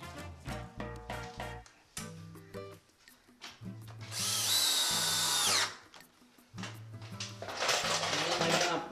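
A power drill drives screws into wooden archway framing in several bursts, short rhythmic pulses up front followed by two longer, louder whining runs, with quiet gaps between them.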